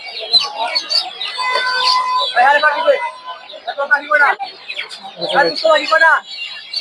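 Many tiger chicken chicks chirp and peep constantly in dense, high-pitched bursts, loud and close, with busy chatter from a poultry market in Tongi mixed in.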